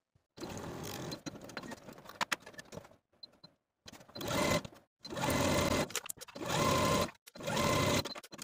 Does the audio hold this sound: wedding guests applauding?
no